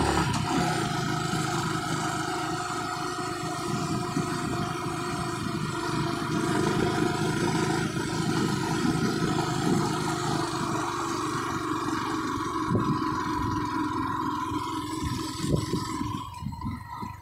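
A motorcycle climbs a steep road in second gear on the way to Bongbongan in Laua-an, Antique, its engine droning steadily and close for the whole stretch, with no talking.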